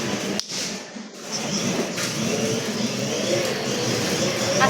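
Steady engine drone of a motorcycle being ridden by a child, loud and fairly constant with a brief dip early on, heard close throughout.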